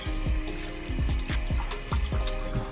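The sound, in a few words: rinsing a cleaned stocked trout under running water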